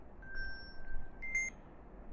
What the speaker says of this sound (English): set a timer for 5 seconds. Your timer has started.